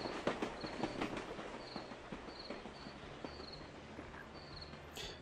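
A short train passing in the video game Thimbleweed Park, rhythmic clattering wheel clicks over a low rumble, moderately loud and fading slightly, with faint tonal whistles near the end.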